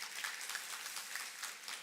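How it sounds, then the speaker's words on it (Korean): A church congregation claps to welcome newcomers during a Sunday service, a faint, steady patter of many hands heard from some distance in a reverberant hall. "박수로 환영하겠습니다"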